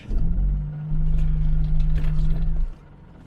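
A Morris 1300 engine revs while the car is driving: a loud, throaty, steady drone with a strong low hum that holds for nearly three seconds, then drops away abruptly, with no talking.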